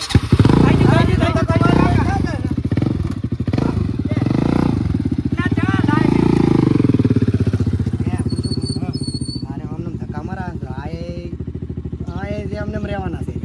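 A motorcycle engine sputters and revs unevenly, loud and close, as the bike is pushed to get it started, with people shouting and talking over the noise throughout.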